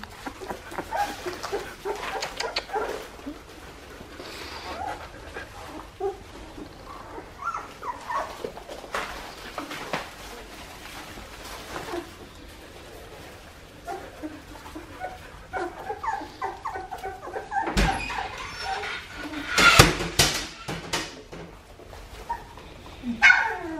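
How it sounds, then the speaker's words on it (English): A litter of puppies about two and a half weeks old whimper, yip and give small barks close by, an overlapping chorus of thin cries that swells near the end, with a few quiet voices in the background. "That's Bianca and her puppies over there"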